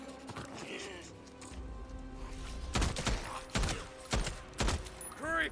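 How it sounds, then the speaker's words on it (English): Gunfire rings out in the Days Gone video game as a player shoots the last few freakers of a horde, several sharp loud bursts spaced unevenly over dense game ambience. "I'm going to take them out with the gun, nice and easy"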